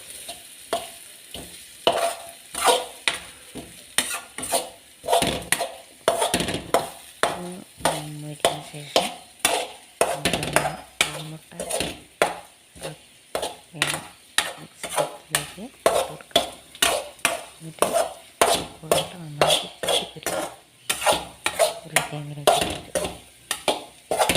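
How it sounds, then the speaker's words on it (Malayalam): Beaten egg and sliced potato are stirred and mixed in a pan over heat: a steady run of quick scraping and tapping strokes, close and prominent, over a soft background sizzle. "ഇത് നന്നായിട്ടൊന്ന് ഇളക്കി നന്നായി മിക്സ് ചെയ്യണം"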